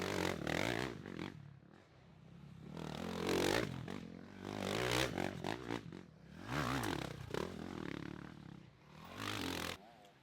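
Off-road motorcycle engines during a GNCC cross-country race at Mason Dixon, a rider opening the throttle to pass for the lead; loud revving passes rise and fall repeatedly, swelling near and fading away.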